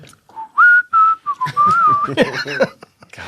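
A person whistles a short rising and sliding tune up close and loudly, followed by a burst of voices and laughter.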